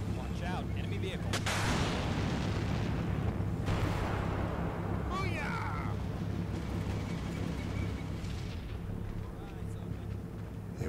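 Gunfire and artillery from the Combat Mission Cold War strategy game rumble continuously through the clip, with dense booms and bursts under a steady low battle roar, loud throughout.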